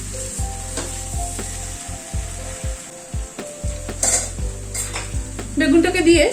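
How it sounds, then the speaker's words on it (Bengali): Fried eggplant is stirred into a vegetable curry for roti or paratha in a pan, with loud spatula scrapes and knocks over a continuous sizzle and low background hum. "বেগুনটাকে দিয়ে আবার একটু ভালো করে মিশিয়ে দেব।"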